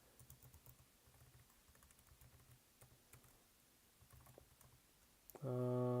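Quick bursts of keyboard typing come in short runs with pauses between, fairly quiet, followed at the end by a sudden loud steady tone.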